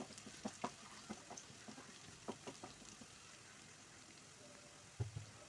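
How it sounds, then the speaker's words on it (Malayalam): Shallots frying in a pan, a quiet steady crackle broken by soft scattered pops and a few stirring knocks, with one louder clatter near the end. "നല്ലോണം ചെറിയുള്ളി ഇട്ടുകാണ്ട് നല്ലോണം കൊണ്ട് മൂപ്പിച്ചെടുക്കുകയാണ്"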